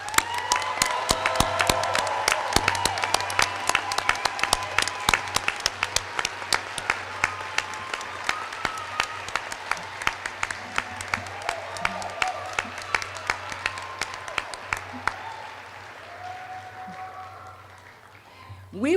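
Commencement audience applauding a class of health sciences graduates, a long, loud round of many hands clapping with some cheering, a low hum underneath, thinning out and fading toward the end.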